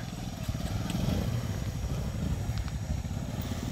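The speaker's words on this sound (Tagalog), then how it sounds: "So yun yung aming sasakyan mga kababayan, motor." A motorcycle engine rumbles nearby with a steady, throbbing low growl and some faint clatter.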